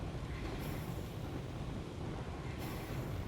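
Train rolling along rails in Astroneer, a low continuous rumble with a steady mechanical drone and two brief higher hissing swells, fairly faint and without talk.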